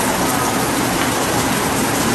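Heavy rain pouring outside a hospital, a loud, dense, steady hiss that fills the whole clip without a break.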